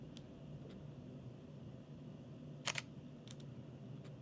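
A Fujifilm X-T5 camera shutter clicks sharply a few times, brief and close, against a quiet steady hum.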